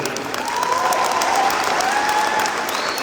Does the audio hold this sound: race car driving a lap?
no